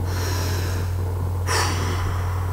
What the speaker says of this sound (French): respirer avec le ventre